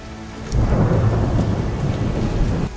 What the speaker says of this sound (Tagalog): nagulat ang lahat nang bumuhos ang sobrang lakas ng ulan